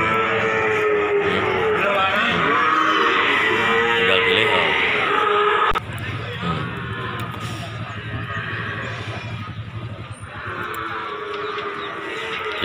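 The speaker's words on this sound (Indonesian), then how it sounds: "Inilah kambing-kambingnya ya." Goats, both males and females, bleat and call over one another at the Keling animal market in Jepara, a loud and crowded livestock din with a constant rustle of background noise.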